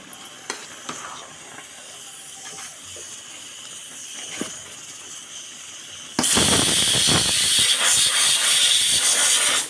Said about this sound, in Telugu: చూడండి చక్కగా అయితే ఉడుకుతుంది